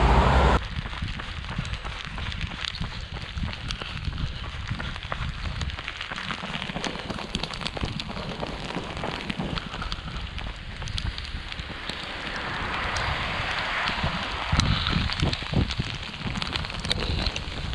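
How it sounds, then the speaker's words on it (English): Heavy torrential rain pours steadily outdoors during a field test of an OMM Halo+ waterproof jacket, a dense broadband hiss with wind buffeting the microphone, continuous and close throughout with no talk. "The rain's coming down now."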